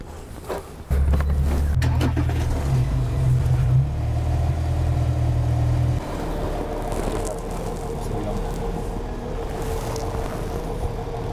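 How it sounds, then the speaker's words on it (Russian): The power steering pump of a VW Touareg hums under load, a low steady drone that is loud and close for several seconds, then drops to a quieter running level. "Ну, гидроусилитель под нагрузкой идет."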